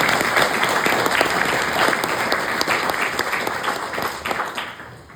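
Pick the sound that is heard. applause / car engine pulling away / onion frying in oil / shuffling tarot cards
applause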